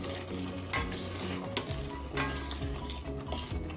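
Tomato puree is stirred into sizzling chhole masala in a pan, giving a continuous frying hiss broken by several sharp scrapes of the spoon. No one speaks.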